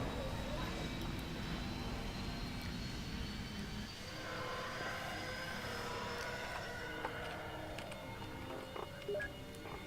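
TIE fighter craft in a Star Wars video game launches with a steady engine roar that shifts to a thinner, rising whine partway through, with faint beeps and a voice speaking over it.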